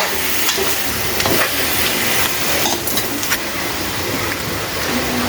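Chicken pieces with bell pepper and chili are stirred in a hot pan, a steady sizzle running throughout with scraping utensil strokes and a few louder clatters; no one speaks.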